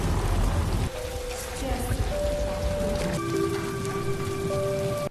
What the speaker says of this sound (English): She can actually feel the rain.